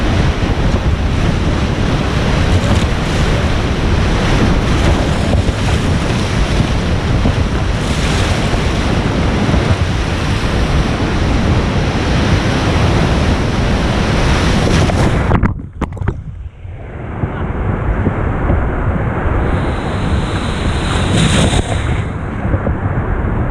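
Loud, steady roar of whitewater at Crystal Rapids in the Grand Canyon on a rafting trip, a dense continuous rush that drops out briefly near the end before the water noise returns.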